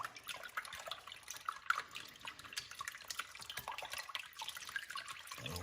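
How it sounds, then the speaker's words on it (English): A sausage and bacon potato casserole mixture is whisked by hand in a bowl, giving a steady, wet, swishing rustle with small irregular peaks, close and fairly quiet, with no talking. "Get yourself a whisk, you know, start mixing this up pretty good."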